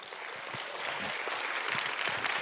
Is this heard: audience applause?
yes